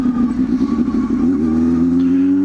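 A Honda Hornet 250 motorcycle engine hums steadily and close by while being ridden, its pitch rising smoothly partway through as it revs up, with no talk over it.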